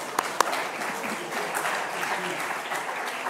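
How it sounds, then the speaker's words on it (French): Audience applause at a talk on artificial intelligence in education, a steady even wash of clapping lasting throughout at moderate level, with two sharper claps standing out near the start. "On peut l'applaudir"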